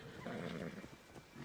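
A brief, low horse whinny from the video game Immortals Fenyx Rising, muffled and fairly faint, set against a steady game background.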